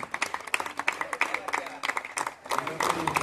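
An audience at a Kolkata football event claps for a player in a brief burst of applause, scattered hand claps heard under a speaking voice.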